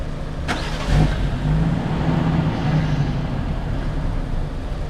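A Lexus SC with a swapped 1JZ engine catches at about half a second and settles into a steady, close, rumbling run that continues to the end.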